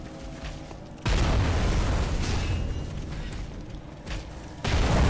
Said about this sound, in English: That delayed explosion.